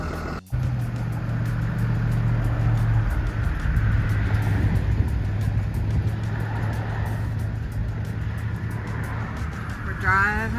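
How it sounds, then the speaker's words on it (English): A truck engine runs steadily and loudly throughout on a road trip near Carlsbad, New Mexico, with a continuous low rumble and road noise; a brief dropout near the start, and speech-like sounds mixed in. "make sure the truck's rolling before I get in the cab with him"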